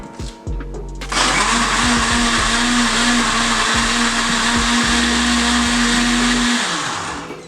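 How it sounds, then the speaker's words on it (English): Onions being pureed in a kitchen blender, which starts after a second with a loud steady motor whir and grinding that runs continuously until it winds down near the end. "I'm going to start by blending the onion."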